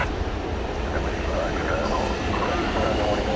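An Airbus A321neo airliner at DFW Airport at night gives a steady, broad engine rumble at moderate distance while a person talks over it.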